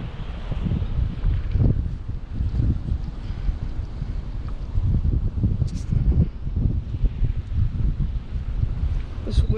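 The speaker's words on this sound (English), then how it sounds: "It's never fun to fish in the wind." Wind buffets the microphone on the Huntington Beach fishing pier in heavy, rumbling gusts that surge and roar continuously, loud and close throughout, with a faint splash or creak now and then.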